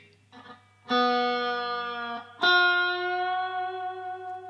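Electric guitar through a Boss Katana amp with effects and reverb: two sustained, distorted notes or chords, each struck sharply and left to ring out with a long shimmering tail, loud and alone.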